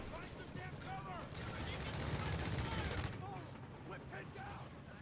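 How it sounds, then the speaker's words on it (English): Strafing-run gunfire in Company of Heroes 3, a dense stretch of rapid machine-gun bursts and explosions with a busy battlefield backdrop, steady and loud throughout, with a commentator's voice over it. "Here we go, Strafe."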